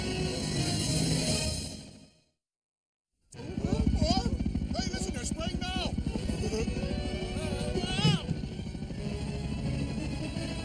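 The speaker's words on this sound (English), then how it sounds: "Hey, here come the choppers now." Helicopters arrive at night to spray defoliant near a house, a rough whirring rumble that cuts out briefly and then returns beneath excited overlapping voices.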